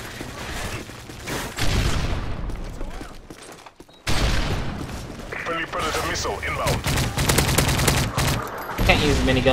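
Heavy sustained minigun fire in Call of Duty: Modern Warfare 3, loud dense bursts with a short pause midway, mixed with other battlefield gunfire and explosions, with players talking over it.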